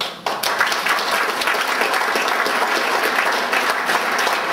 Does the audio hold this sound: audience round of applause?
yes